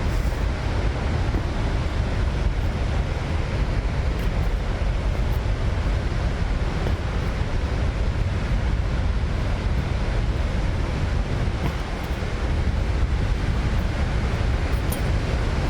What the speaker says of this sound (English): Now that's water flowing.